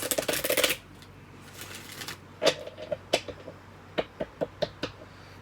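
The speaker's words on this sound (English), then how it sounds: "Let's really quickly shuffle and then get 3 more cards" A deck of tarot cards riffled in a quick buzzing burst, then several crisp separate snaps and taps as cards are cut and laid down, close and clear.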